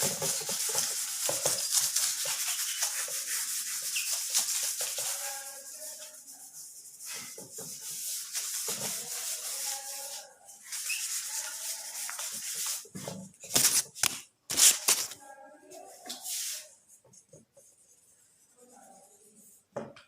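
Writing being rubbed off a classroom board, a steady scrubbing and swishing sound that runs continuously, then breaks into shorter, uneven strokes and a few sharp knocks near the end, with no talking.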